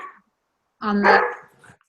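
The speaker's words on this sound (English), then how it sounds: "Yep, that's my dog." A single close, loud dog bark rings out with a short tonal yelp, following a brief moment of silence, heard indoors during a phone call.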